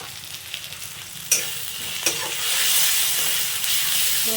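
Spice paste with turmeric sizzles and is stirred in a pan for a fish curry, a dense frying hiss with two sharp spatula knocks, rising to a louder, fuller sizzle in the second half.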